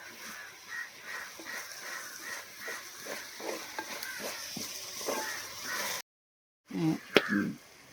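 Onions sauté in a pan for pepper chicken, with rhythmic spatula scrapes over a soft sizzle. A short silent break is followed by a few louder clatters.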